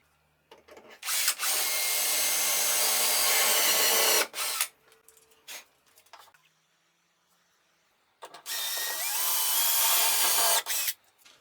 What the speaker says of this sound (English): and I drill the hole.